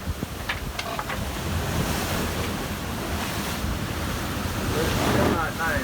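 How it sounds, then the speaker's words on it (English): Rough ocean swell of roughly three metres surging and breaking around a sailboat on a multi-day passage to New Zealand, with steady wind rushing across the microphone, continuous and loud, a brief splash near the end. "the waves have been pretty ugly"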